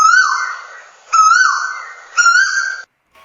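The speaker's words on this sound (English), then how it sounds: "what you just heard is a bird called Asian quail" Three separate bird calls, each a loud, clear whistled note with a rising then falling pitch, separated by short pauses, with no background noise.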